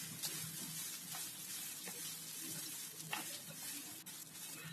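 Grated coconut stirred in ghee in a pan for a sweet iftar snack, giving a steady, fairly quiet sizzle with soft scraping strokes of the spoon and occasional light clinks, no voices.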